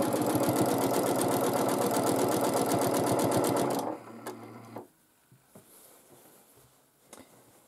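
A sewing machine runs steadily at speed during free motion quilting, a dense rapid stitching rattle for about four seconds, then stops, leaving a brief low hum and faint small handling noises.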